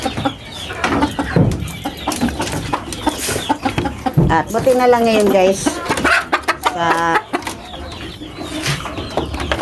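A mother hen clucks near her chicks, which peep in short high bursts in the foreground, with a rooster-like call briefly; someone talks over much of it.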